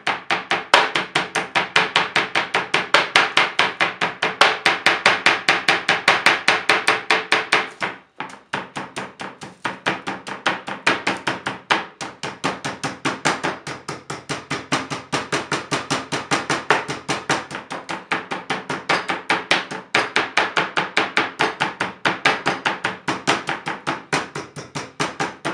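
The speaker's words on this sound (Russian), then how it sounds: "И теперь все кусочки мы слегка проходимся" Steady, rapid pounding of a meat mallet on beef pieces on a board, dense rhythmic thuds continuing throughout with a brief pause partway, close and loud.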